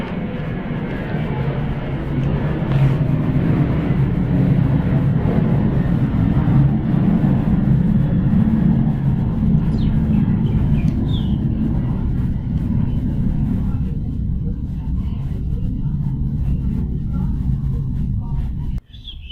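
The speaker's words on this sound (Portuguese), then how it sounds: "Avião passando uma hora dessa." A fixed-wing airplane passes overhead, its broad steady roar holding loud and close for most of the stretch before easing off near the end.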